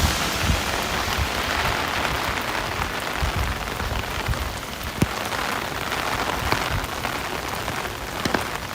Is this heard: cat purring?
no